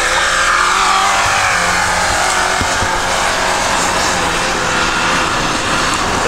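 A five-door off-road car, one of a Nissan Patrol, Niva, Isuzu Rodeo, UAZ or Volkswagen Touareg, accelerates during a hill-climb contest, its loud steady engine roar holding close and continuous throughout with no talk.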